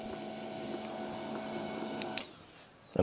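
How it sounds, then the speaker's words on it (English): An HP LaserJet P1006 printer initializing: a steady mechanical hum with a tonal whine for about two seconds, two sharp clicks, then quiet before a final clunk, heard up close without talk. "And the printer has initialized."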